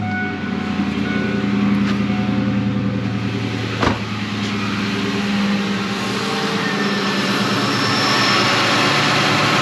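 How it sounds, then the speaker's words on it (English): A 1998-2000 Ford Mustang idles with its new radiator fan and air conditioning running, giving a steady engine hum and whooshing fan roar, close and constant throughout, with one brief knock partway. "Okay, fan is blowing."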